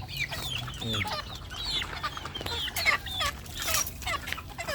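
Young chicks clucking and chirping restlessly at feeding time as rice is given, many overlapping high peeps and clucks close by, continuous and busy.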